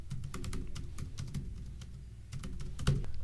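Rapid keystrokes on a computer keyboard while entering a chart title in box-plot display options, an irregular run of close, crisp clicks with a slightly heavier tap near the end, no voices.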